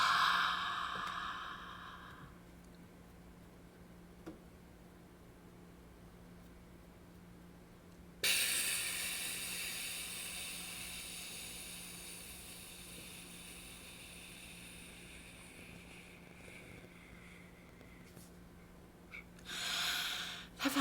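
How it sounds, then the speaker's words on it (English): A long, steady hiss of air pushed slowly through pursed lips during a singer's breathing exercise, soft and continuous for many seconds, ending with a brief louder breath. "I'm going to send the air out on that thin stream between my lips"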